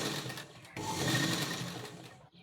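A sewing machine stitches cloth in a fast, continuous whirring rattle, close and steady, with a short pause near the start and a stop at the end.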